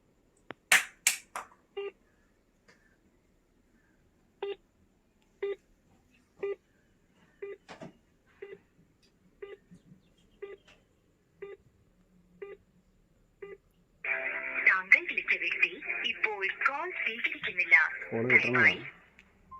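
A phone being dialed for a call gives a run of short, evenly spaced tones, then a louder burst of ringing or electronic signal sounds near the end, with nothing else in between.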